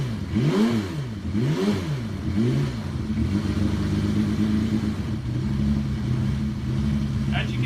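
Boat engine, just back from an impeller seal replacement, revving in rising and falling sweeps before settling into a steady idle, close and loud.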